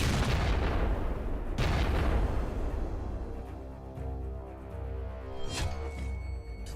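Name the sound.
explosions at sea in Black Sea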